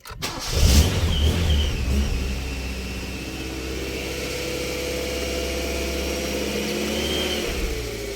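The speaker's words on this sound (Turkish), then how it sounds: "Evet arkadaşlar şu anda cigliye çektim ve çalıştırıyorum." A Tofaş Kartal/Doğan SLX car engine, with the choke pulled, cranks and fires up close by, revs briefly, then settles into a steady, even idle that runs on alone.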